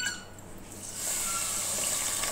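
Water is poured into sugar in a pan to make gulab jamun syrup, starting as a faint trickle and then settling into a steady, close gushing pour.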